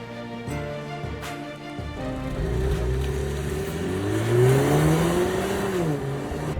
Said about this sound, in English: How does this new second generation Mercedes-Benz GLC drive? Well, let's find out.